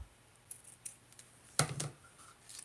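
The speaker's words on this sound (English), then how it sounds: "I'm going to trim this off." Scissors snip through paper while trimming a greeting card, a few scattered quiet cuts building to one sharper, louder snip near the end, close and alone.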